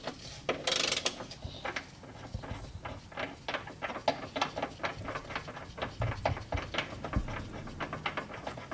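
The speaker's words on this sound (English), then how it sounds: "make sure you have a long ratchet or an extension for it" Ratchet wrench clicking repeatedly while turning a 19mm bolt on a Hyundai Genesis Coupe subframe, a steady run of close, sharp mechanical clicks with a brief louder rattle near the start.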